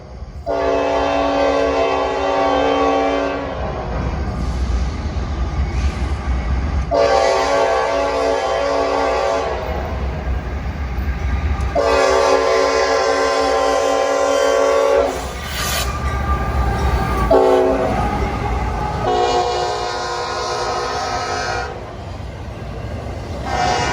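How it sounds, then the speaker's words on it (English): A Norfolk Southern intermodal freight train rumbles past close by, led by a GE AC44C6M diesel locomotive with a steady drone, its horn sounding in several long blasts separated by short gaps. "southbound Intermodal Train 226 eased its way through town, led by NS 4340, a GE AC-44 C6M"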